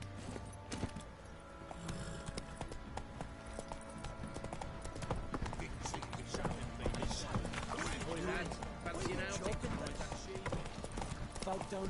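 The Witcher 3 horse Roach trots along with steady clip-clopping hooves under in-game ambience and voices, someone talking over the rhythmic beat.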